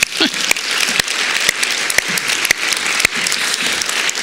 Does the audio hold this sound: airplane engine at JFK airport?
no